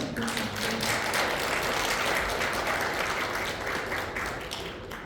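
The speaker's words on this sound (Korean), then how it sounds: "박수 한번." A church congregation applauds at a Sunday worship service, steady dense clapping filling the whole stretch at close range and fairly loud, with a faint voice underneath at the start.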